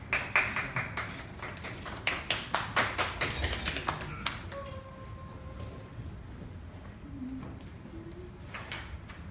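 An audience applauds the acapella group MayTree at a stage event, with a burst of rhythmic clapping that fades after a few seconds into quieter room noise.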